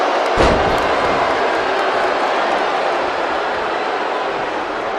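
Wrestling crowd in WWE 2K19 during a TLC pay-per-view match, a steady, loud, broad roar of arena noise throughout, with a short thud near the start.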